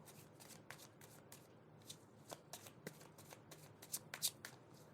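Tarot cards being shuffled by hand, a quick run of soft papery riffles and flicks that grows busier and a little louder toward the end, close and quiet, with no talking.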